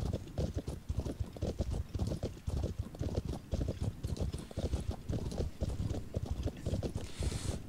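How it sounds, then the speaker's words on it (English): Donkey hooves clip-clopping steadily in the Mortal Online game, a quick, even, continuous run of soft low thuds with faint wind-like noise behind them. "There's my donkey following me all the way back there."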